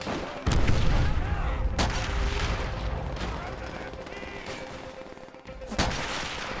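Sniper rifle shots in Call of Duty, two or three sharp reports cutting through a dense, noisy battlefield background of rumbling gunfire and effects, with a voice talking at times.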